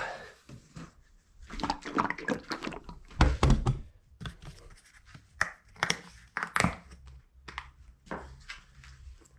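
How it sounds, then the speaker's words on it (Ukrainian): Yamaha FZR 1000 motorcycle valve seals being tipped into oil, giving a string of small dull thunks, knocks and scrapes at close range in an uneven rhythm, with no voices. "кидаю сальники в масло"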